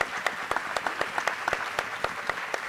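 Applause for the director of a TV studio show, a scattered spread of individual claps with distinct sharp hits rather than a dense roar, fairly steady throughout the short stretch.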